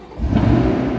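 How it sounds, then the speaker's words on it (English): A Chevrolet C8 Corvette engine fires up with a short swelling mid-low rumble that settles into a steady idle, heard close and loud without talk. "restart the car"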